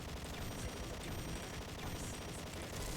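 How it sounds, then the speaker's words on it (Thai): Gunfire in the shooting game XSHOT: a continuous dense rattle of rapid shots that stays steady and fairly loud, with faint high-pitched effects over it and no talk. "รีบยิงครับ"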